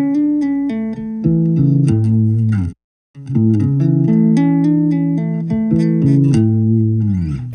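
An electric guitar plays a slow arpeggiated figure with a right-hand tapped raised fourth, sustained clean notes ringing one after another, close and alone, with a brief gap midway before the phrase repeats.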